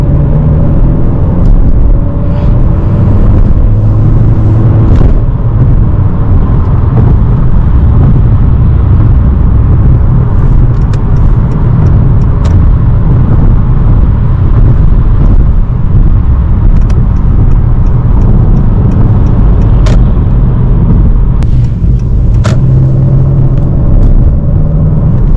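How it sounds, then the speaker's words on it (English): A 2020 Honda Accord Sport with a 2.0-liter 252-horsepower engine pulls in sport mode on a highway, a loud, continuous cabin rumble of engine and road noise with no talk. "When I go to the highway, I'm gonna put the car into sport and do a pull for you guys."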